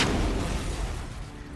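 A rocket set off down a mole hole explodes in a cartoon, heard as a loud, broad blast that rolls on and slowly fades.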